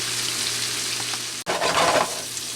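Fried rice seasoned with black pepper sizzles loudly and evenly in a pan, a continuous bright frying hiss with a brief cut midway before the sizzle and stirring resume.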